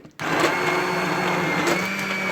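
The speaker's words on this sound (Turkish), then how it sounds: "Men o'tni o'chirib, blenderdan o'tkazima." A blender kicks on abruptly and runs steadily, whirring loud and close as it purees cooked red lentil soup for mercimek çorbası.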